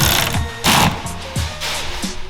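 A screw is driven into a Jeep Cherokee door panel in short bursts of whirring, with brief pauses between the buzzy pulses, close up.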